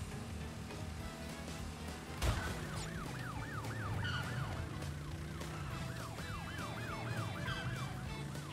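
A police car siren wails in Crash Bandicoot 3 from the N. Sane Trilogy. Its rising and falling sweeps repeat steadily over game music and engine hum, after a sharp thud early on.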